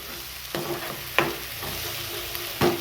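Soybean fry masala roasting in a pan, a continuous moderate sizzle with three or four distinct spatula scrapes against the pan at intervals, close and without talk.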